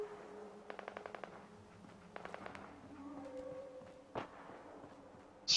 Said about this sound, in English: Someone is firing at something.